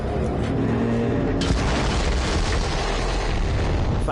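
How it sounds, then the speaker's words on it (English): A video game explosion rumbles through a forest, a loud, sustained boom that rolls on with a broad echoing tail, with no voices over it. "Explosion echoed through the forest"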